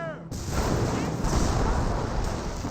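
Grenade explosion in the real-time strategy game Company of Heroes, a sudden loud boom that cuts in sharply and rolls on as a dense, sustained rumble of blast and battlefield noise.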